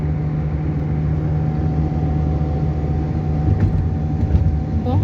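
A car driving along a road in Karachi, heard from inside as a steady, loud rumbling engine and road drone with constant tire noise and no talking.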